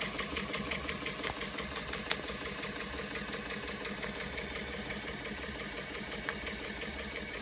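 A Jensen Model 25 toy steam engine runs with a poppet valve slide, giving a quick, even chuffing rhythm of regular beats over a low mechanical hum, close and moderately quiet.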